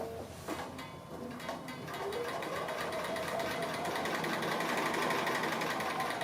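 A sewing machine stitches applique, its needle chattering in a fast, even mechanical whir that runs continuously at moderate volume and builds slightly, with no voices over it.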